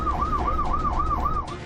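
An ambulance siren on a street in Kazan wails loudly and close, its rising-falling tone repeating rapidly in a steady cycle.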